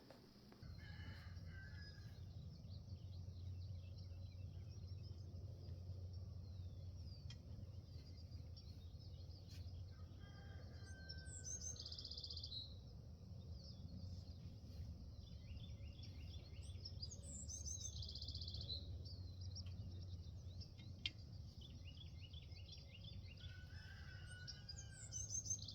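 In a vegetable garden, a rooster crows a few times in the distance amid other faint bird calls, all quiet over a low, steady outdoor hum.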